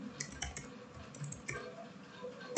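Computer keyboard typing in short irregular bursts of soft clicks, fairly quiet and close, while entering database values in SQL Server.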